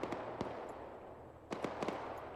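Gunshots crack in Arma 3, several sharp distant reports in an irregular scatter, two early and a tight cluster of three later, each a quick bright snap over a quiet background.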